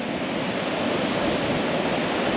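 Ocean waves wash ashore on the Cape with a dense, steady roar of surf, a light breeze blowing from the south adding to the constant hiss, no voices.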